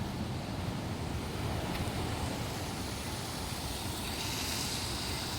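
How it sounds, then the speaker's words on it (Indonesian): Surf rolls steadily onto a beach on the western side of Alas Purwo, a continuous broadband wash of waves mixed with wind buffeting the microphone, with no voices. "Jadi ini pantai sebelah barat Alas Purwo."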